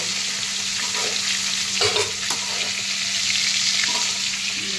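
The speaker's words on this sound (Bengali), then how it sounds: "চিংড়ি মাছ আমার এটা একটা একটা করে ভাজবো" Prawns frying one at a time in a pan, with a steady, close sizzle of hot oil and occasional scrapes and clinks as they are turned, no talking.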